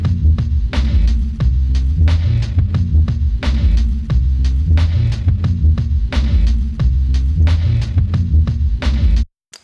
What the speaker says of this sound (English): I'll play the drums here so you can hear what it sounds like in the context of the beat.